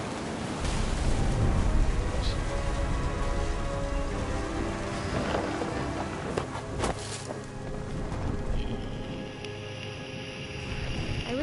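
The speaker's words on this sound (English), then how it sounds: "The thunder sounded much too close and full of angry power" A steady downpour in What Remains of Edith Finch, broadband and continuous for the whole stretch with faint scattered splashes and no distinct thunderclap standing out.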